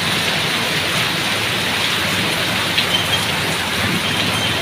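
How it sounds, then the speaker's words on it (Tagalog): Heavy rain pours down steadily during a motorcycle ride on a TMX 125 near Pililla, a dense, loud, unbroken hiss of rainfall with no voices, continuous from start to finish. "ang lakas ng ulan dito"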